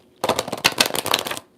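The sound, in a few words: riffle shuffling a tarot card deck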